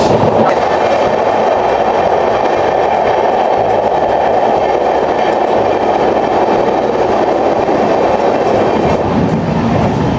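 A passenger train rolls through the hills of Mizoram, crossing bridges and entering tunnels, with a loud, steady rumble and a faint rhythmic clatter of the wheels heard from inside the carriage.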